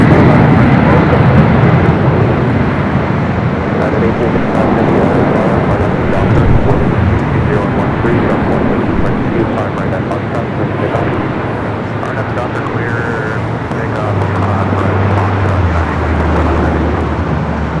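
A Delta Boeing 767 jet airliner at LAX, a loud steady engine roar filling the whole stretch with a broad rushing rumble and a low drone rising near the end.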